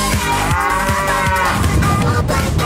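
A cow moos loudly and steadily in a short clip from a Matrix-themed cow video, a single drawn-out low bellow filling the whole moment with no speech.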